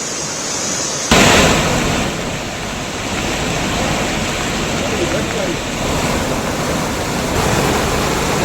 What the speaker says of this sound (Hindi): नदी किनारे की कई दुकानें पानी के तेज बहाव में बह चुकी हैं।